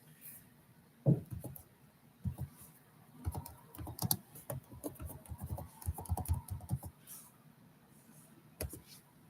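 Fingers type in irregular bursts on a computer keyboard, close-up clicks and clacks clustered in short runs with brief pauses, fairly quiet over a faint room background.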